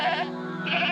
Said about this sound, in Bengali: ছাগলের ঘর থেকে কেমন কান্নার আওয়াজ আসছে।